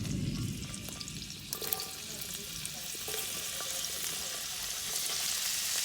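Potato chips fry in bacon grease on a stovetop, giving a steady, dense sizzle and crackle that holds for several seconds with no voices over it.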